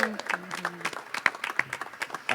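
Light applause from a small audience at a basketball press conference introducing a new Los Angeles Sparks player, sparse clapping in short bursts with voices talking over it.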